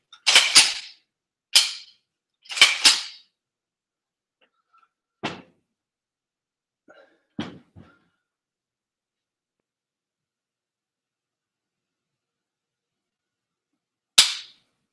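A CMC Lantac trigger fitted in a POF 308 rifle produces a handful of sharp, close mechanical clicks and snaps spaced apart by silence, with one last click after a long pause.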